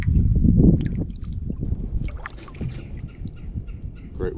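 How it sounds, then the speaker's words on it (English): A paddle dips and swishes through still water as a canoe or kayak glides along, with close, soft splashing strokes and drips and no talk. "Found some still waters to just paddle around"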